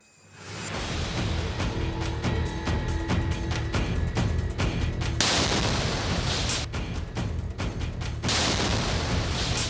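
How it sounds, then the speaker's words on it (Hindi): A flag-mounted bomb hanging on barbed wire explodes loudly, rumbling and crackling on for several seconds, dense and roaring, with a second surge of blast noise partway through. "कटीली तारों पर टंगे झंडे से हुआ ये धमाका"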